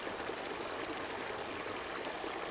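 River water flows and bubbles steadily as a sound effect, a soft, continuous rushing with faint trickling glints throughout.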